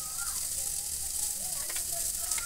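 Potatoes and tomatoes frying in a pan for a small-fish chorchori, giving a continuous bright sizzle and crackle with a faint voice in the background.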